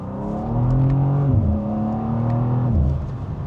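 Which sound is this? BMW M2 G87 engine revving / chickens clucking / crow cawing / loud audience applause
BMW M2 G87 engine revving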